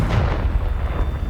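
A Confringo fire spell in Hogwarts Legacy goes off as a dense, continuous rumbling blast with heavy low-end booming throughout, loud and sustained without any voices.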